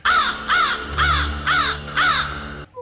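Five loud, harsh crow caws come at an even, steady rhythm, close and clear, and then stop abruptly.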